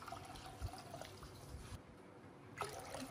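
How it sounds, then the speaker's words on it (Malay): Pandan water, made from six blended pandan leaves strained with water, trickling and splashing into a bowl at low level, with a pause midway before the pour resumes. "Dalam mangkuk masukkan air pandan sebanyak 2 cawan tadi."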